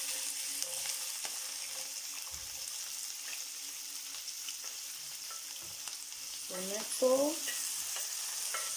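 Onion fries in olive oil with a soft, continuous sizzle and occasional light pops, while a voice speaks briefly near the end.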